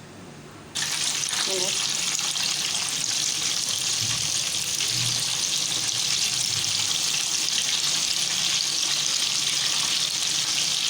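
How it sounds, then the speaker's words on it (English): Gola kababs deep fry in oil on a medium flame. After a short quiet start, a loud, steady hiss of bubbling oil runs without a break. "Deep fry it on medium flame."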